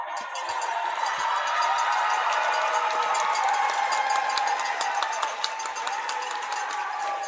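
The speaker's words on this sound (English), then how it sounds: "the crowd is definitely excited" A rowdy crowd at a high school boys wrestling team sectional in Lodi roars in a steady, dense wall of cheering, with sharp clacks like cowbells poking through the din.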